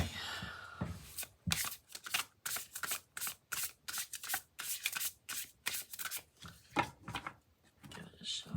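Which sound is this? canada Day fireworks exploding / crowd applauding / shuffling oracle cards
shuffling oracle cards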